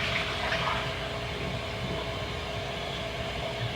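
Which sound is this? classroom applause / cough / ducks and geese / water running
water running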